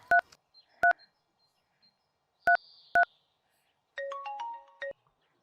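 A phone keypad beeps out a quick string of separate dialing tones, then a ringtone-like tone pattern plays, all clear and close with no voices.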